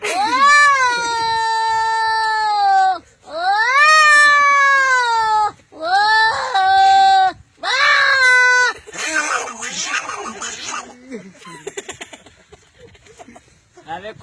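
A voice imitates two cats fighting on a ledge, giving loud drawn-out rising and falling yowls in four long bursts, then harsher, choppier snarling and spitting calls that fade off.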